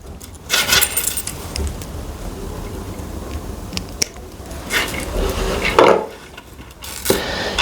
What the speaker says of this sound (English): Then you cut the chain at the fourth section.